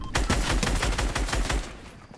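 Rapid automatic gunfire in Fortnite, a loud, close string of about a dozen evenly spaced shots that stops abruptly.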